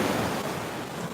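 Large ocean surf rolling in after storms, a dense continuous roar of breaking waves mixed with wind buffeting the microphone, loud and unbroken for the short span.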